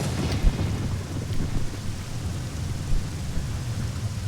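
Steady rain hiss with low rumbling thunder in a Zelda: Ocarina of Time village storm, a continuous wash of rainfall and distant rolling rumbles with no voices over it.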